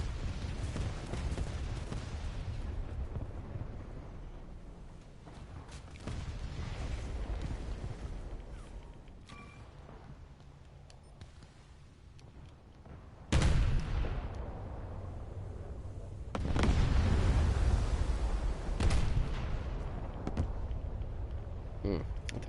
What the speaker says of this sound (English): Oh no, that's my anti-aircraft gun that's going off.